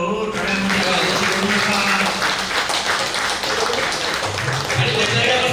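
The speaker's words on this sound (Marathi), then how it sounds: "सगळ्यांनी टाळ्या वाजवा" At a birthday celebration, a gathered crowd claps loudly and continuously, with a steady wash of applause and some voices underneath throughout.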